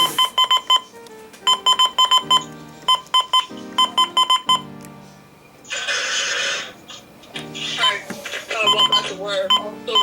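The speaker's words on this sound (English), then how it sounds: "the button beeps on the Sima FirstAlert" A Sima FirstAlert WX-167 weather radio gives loud, repeated short electronic button beeps in quick clusters with brief pauses between them. A harsher, noisy stretch breaks in midway, and the beeping resumes after it.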